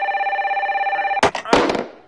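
A cartoon telephone rings with a steady electronic trill for over a second, then is cut off by loud, sharp bursts and crashing noises close by.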